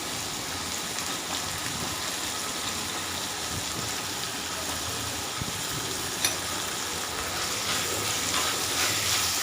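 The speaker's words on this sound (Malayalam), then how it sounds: "നന്നായിട്ട് വഴറ്റി കൊടുക്കാം ഈ സവാളയും തക്കാളിയും പച്ചമുളകും ഒന്ന് വാടി വരുന്നത് വരെയും നമുക്ക് വെയിറ്റ് ചെയ്യാം" Onion, tomato and green chilli sauté in a hot pan, giving a steady, fairly loud sizzle with occasional stirring scrapes, uninterrupted by talk.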